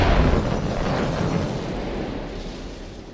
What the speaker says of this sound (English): The sky lit up with the huge explosion.